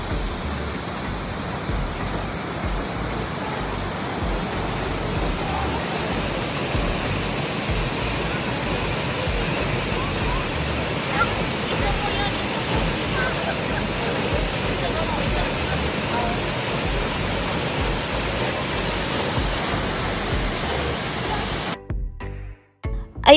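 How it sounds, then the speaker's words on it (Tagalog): River current flowing in Canada: a steady, broadband rushing wash of moving water, loud and continuous throughout, cutting off abruptly near the end. "pakinggan nyo ho ang agos"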